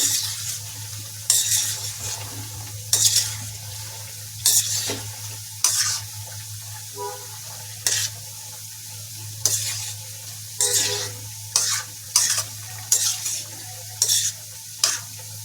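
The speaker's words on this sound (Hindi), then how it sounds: "अब मैं चम्मच की मदद से इनको हिला दूंगी।" A spoon stirs balushahi frying slowly in oil, giving a steady low sizzle broken by regular scraping clinks against the pan, about a dozen strokes spread evenly.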